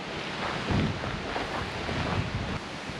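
Steady wind buffets the microphone on the Lake Superior shore at Pictured Rocks, a continuous loud broadband roar with slight swells and no voices.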